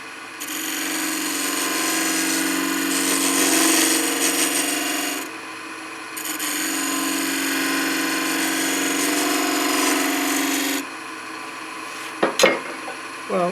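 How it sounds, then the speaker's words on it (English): Wood turning on a lathe with a bowl gouge while shaping a small lighthouse ornament: a steady, close rasping scrape of the cutting tool against spinning wood, running in two long passes with a brief pause between, ending in a few sharp knocks. "use my bowl gouge to do that."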